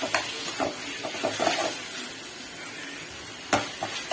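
Minced mutton keema frying in oil, a steady hiss of sizzling overlaid with irregular scraping and tapping stir strokes against the pan, including a sharp clatter near the end, close and fairly loud without speech.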